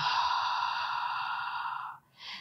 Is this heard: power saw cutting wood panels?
no